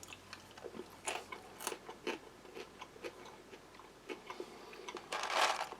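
Slightly stale crackers from a U.S. kosher MRE being chewed, giving faint, close, irregular crunches and bites over a quiet background.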